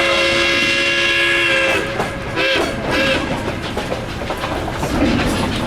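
Aboard the Durango to Silverton train, a loud steam whistle sounds up close for about two seconds, then gives way to rumbling and clattering wheels on the rails.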